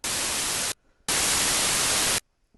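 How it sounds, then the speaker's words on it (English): A synthesizer oscillator puts out pure white noise in two loud, even hissing bursts, each stopping abruptly and separated by a short silence. "So pure white noise has every single frequency in it."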